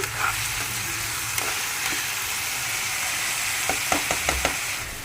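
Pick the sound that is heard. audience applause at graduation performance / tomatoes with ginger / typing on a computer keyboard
tomatoes with ginger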